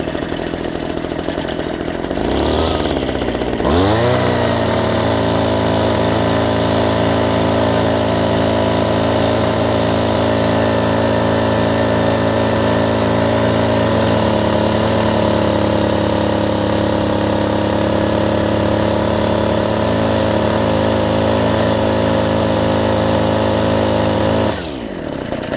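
A Homelite ST275 string trimmer engine with a freshly installed carburetor kit starts after a few seconds and then idles steadily and loudly, holding an even, buzzing two-stroke note for about twenty seconds before cutting off near the end.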